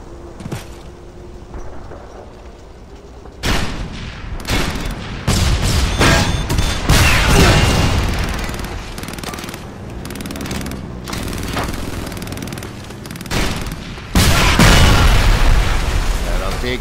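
In the war video game Frontlines: Fuel of War, loud bursts of automatic gunfire and booming blasts go off in rapid volleys and then die down. The shooting is up close and intense, and shouted voices mix in.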